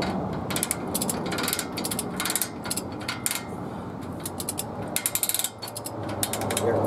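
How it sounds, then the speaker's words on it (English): Ratcheting spindle nut on the front 4x4 hub of a 1985-1994 Ford F150, turned by hand during a brake rotor job, giving a steady run of close, sharp mechanical clicks, with a brief burst of faster clicking near the end. "It's gonna ratchet as you're turning it."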